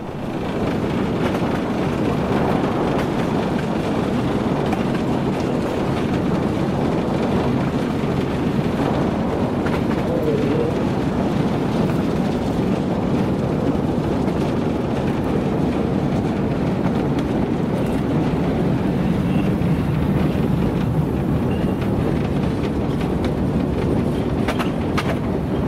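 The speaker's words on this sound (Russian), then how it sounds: "Садимся в тепловоз, движемся дальше" A diesel locomotive running on the Chepetsk narrow-gauge railway, heard from on board as a loud continuous rumble and rattle with faint wheel clatter, no talk.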